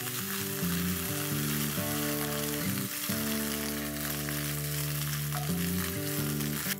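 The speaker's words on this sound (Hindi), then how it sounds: "इसे थोड़ी देर तक फ्राई कर लेते हैं। दाल फ्राई हो चुकी है" Dal frying in a pan with ginger and green chili paste gives a steady broadband sizzle that runs throughout, mixed with constant tonal background music and no speech.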